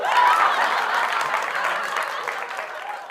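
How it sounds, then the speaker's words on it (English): Applause from a crowd for a guest on a talk show, dense steady clapping that holds at full strength through the clip and eases off only slightly toward the end. "Round of applause for Red."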